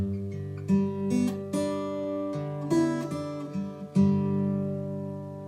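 Gentle fingerpicked acoustic guitar playing the slow melody of "Jesus Paid It All," individual plucked notes ringing over soft bass notes, clear and close.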